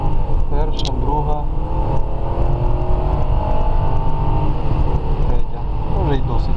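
A Lexus LS 430 (UCF30) running on LPG accelerates hard through its gears, the engine note climbing and dropping with each shift, loud and close from inside the car while someone talks over it.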